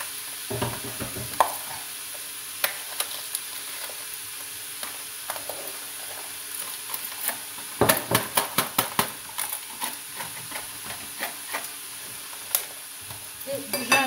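Duck and chicken filling for nems sautéing in a pan, a soft steady sizzle under repeated scraping and tapping of a utensil that grows into quick clattering stirs, close, with no talking.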